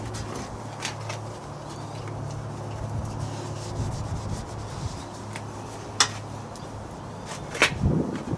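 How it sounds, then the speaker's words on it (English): Panel wipe is rubbed by hand over the paintwork of a Ducati Scrambler motorcycle, giving a steady soft scrubbing and rubbing that runs throughout with a couple of brief sharper knocks near the end. "we're going to use a panel wipe to clean any residue off of there"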